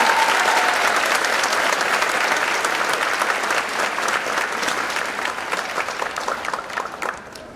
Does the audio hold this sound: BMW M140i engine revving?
no